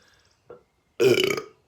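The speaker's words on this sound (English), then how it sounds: "Excuse me, I burped." A man gives one loud, close burp lasting about half a second, with a short throaty gulp just before it, in an otherwise quiet room.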